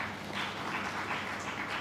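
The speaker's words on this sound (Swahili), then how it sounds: "Naomba makofi hapo tafadhali." An audience claps in response to a speaker's request during a speech about the media sector and press freedom, a dense, steady round of applause that fills the short moment with no talking over it.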